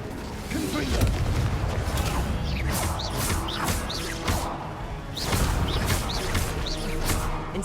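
Confringo explosions in Hogwarts Legacy combat: a dense, continuous barrage of crashing blasts and whooshes layered over battle noise, with repeated sharp impacts and booms throughout.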